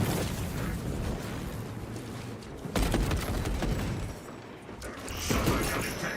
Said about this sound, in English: Servo gun is fully operational.